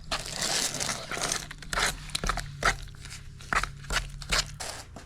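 Mortar and water being stirred together for a small cement pot: close, gritty scraping and crunching strokes in an uneven rhythm, with several louder scrapes standing out and no voices.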